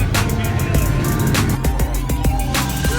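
A McLaren 570S sports car on a race track, its engine droning steadily with rising and falling pitch as it revs, loud and continuous throughout.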